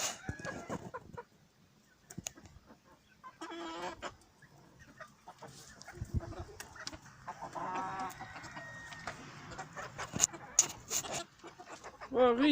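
A rooster clucks and calls intermittently amid farmyard noises, with scattered sharp knocks and a person speaking at times.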